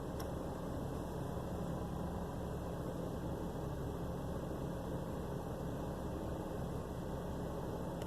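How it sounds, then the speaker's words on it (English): A troubled truck engine idling with the blower fan on medium and the headlights on, producing a steady, low continuous hum and rumble with no voices. "Now it's starting to act like it's going to idle normally."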